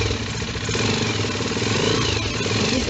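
A small engine idles steadily after a carburetor adjustment, a close, loud, even putter with a slightly uneven rhythm running for a few seconds without speech.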